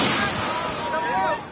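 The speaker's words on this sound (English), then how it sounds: "the new commander-in-chief was given a 21-gun salute" Artillery fires a 21-gun salute at a Philippine presidential inauguration; a loud, distant boom rolls out with a long echoing rumble, with voices mixed in.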